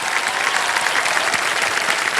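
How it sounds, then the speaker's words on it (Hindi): Studio audience at a televised quiz show for young contestants breaking into loud, sustained applause, dense clapping from many hands with no talking over it. "बहुत बहुत बधाई, एक बार जोरदार तालियां बज जाएं।"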